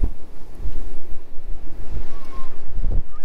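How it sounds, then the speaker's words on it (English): Strong outdoor wind buffeting a microphone at a lakeside cookout, a steady low rumble with gusts swelling and easing throughout, loud and close, no talk. "God, that wind was terrible."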